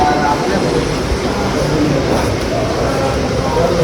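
Train and platform rumble at Dimapur railway station, a dense, steady wash of noise that fills the clip without letup, with faint voices mixed in.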